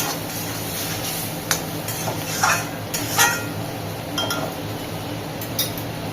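A spatula stirs a spice masala frying in a pan for a Bengali cauliflower and rui fish curry, with steady sizzling under repeated light metallic scrapes and clinks.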